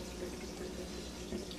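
Water trickles and gurgles steadily through tubing of a homemade aquarium protein skimmer built from a plastic cup on a 46-gallon bow-front tank, faint and continuous with no talking.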